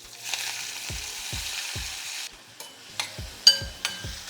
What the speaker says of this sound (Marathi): या सगळं आपण ह्याच्यात आपल्या फोडणीमध्ये घालून घेऊयात